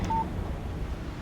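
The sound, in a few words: phone text message alert from video game Alan Wake Remastered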